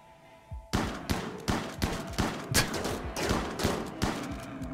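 Rapid volley of gunshots in the RimWorld video game, about ten sharp cracks at a steady rhythm starting abruptly after a moment of quiet, fairly loud with no talking.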